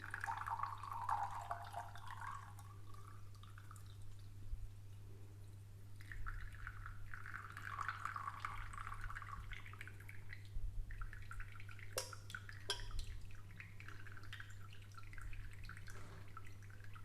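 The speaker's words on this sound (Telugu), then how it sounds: "మనం ఇట్లా రెడీ అయిన రోజ్ వాటర్ని దీనిలో గాజు గ్లాస్లో వేసుకొని వడకట్టుకుందాం" Homemade rose water drips through a strainer into a glass, a soft and steady trickle of drops and thin liquid that stays faint and close, with no voices.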